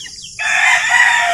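A backyard breeder's hen held in the hand just before release into a net; a loud, close squawking cluck begins abruptly and holds steady for about a second.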